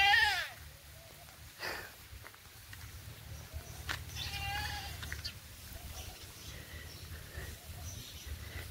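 A farm goat bleats faintly a couple of times, the first call at the start and another midway, over low rural background noise and a distant voice.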